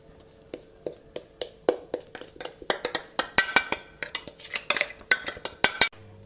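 Roasted gram (pottukadalai) mixture stirred into hot ghee in a pan for a two-ingredient sweet, with a steady run of close, sharp spoon scrapes and clinks against the vessel.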